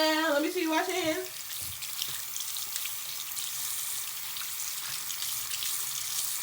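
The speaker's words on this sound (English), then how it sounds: "Let me see you wash your hands." Water runs from a tap as hands are washed at a sink, a soft, steady hiss and splash that carries on evenly after a brief burst of voices at the start.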